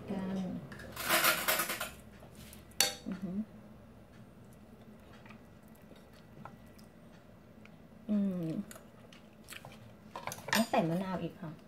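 Close, sharp clinks and scrapes of a spoon against a dish while scooping Thai chicken larb, coming in short bursts with someone talking between them.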